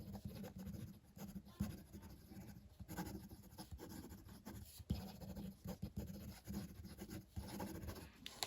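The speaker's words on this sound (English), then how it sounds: "Quick writing" A Ferris Wheel Press brush fountain pen with a stiff nib writes quickly on smooth Clairefontaine paper, giving soft, close, continuous scratching with small rhythmic strokes and brief pauses.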